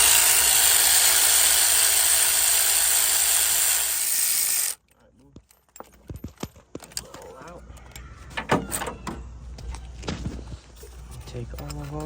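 A ratchet loosens 14mm engine mount bolts on a 1998–2002 Honda Accord four-cylinder, with scattered close clicks and metallic handling after a loud steady hiss cuts off partway through.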